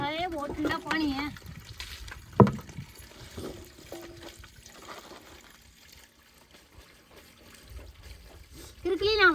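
Freshly picked green vegetables are washed in very cold water in a basin, with splashing and trickling poured water heard near, between and under voices talking at the start and end.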